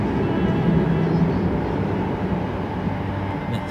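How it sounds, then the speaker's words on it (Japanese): A train rumbles past at a steady, moderately loud level, a continuous low roar with no break, heard from indoors near the tracks. "電車の音、電車の音、初めて聞く音やな"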